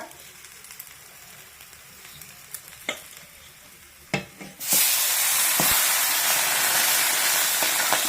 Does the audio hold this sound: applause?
no